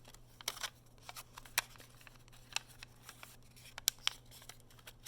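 Sheets of origami paper being unfolded and creased while folding a crane, giving soft, quiet crinkles and sharp crisp snaps spread at irregular moments over a low steady hum.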